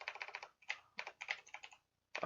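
Typing on a computer keyboard while programming an Arduino Leonardo: close, brisk bursts of key clicks in several runs, with short pauses between bursts and a final burst starting at the end.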